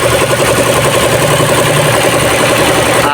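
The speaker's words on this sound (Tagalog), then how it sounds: "Papanda rin na natin ang makina para mag-circulation na yung lagi sa loob." A Ford EcoSport's engine idles during a check-up at a Shell service center, giving a loud, steady, close rumble throughout with no talking.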